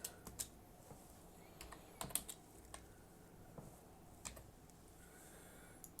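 Light keystrokes tap on a computer keyboard in short irregular bursts, quiet and close, with sharper clicks scattered among softer taps.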